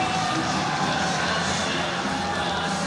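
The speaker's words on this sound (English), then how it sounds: "And listen to this crowd. They have woken up here inside the Changhua County Stadium." Basketball arena crowd roaring and cheering inside Changhua County Stadium during an ASEAN Basketball League game, a loud steady wall of voices throughout with a commentator talking over it.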